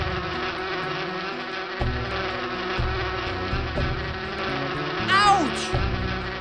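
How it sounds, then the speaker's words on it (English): Honeybees buzzing around a tree in the video game Inherit the Earth, a continuous droning hum with a wavering pitch that swells louder near the end, heard alone over a layered game backdrop. "those are definitely honeybees"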